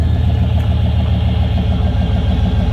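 A 1995 GMC Vandura 2500 van with 167,000 miles idles steadily just after starting, its low, even engine rumble close and constant with no rattles or pops and no talking.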